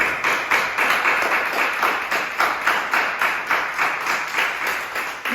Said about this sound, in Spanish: ¿Le puedo dar un aplauso a Jesucristo esta mañana?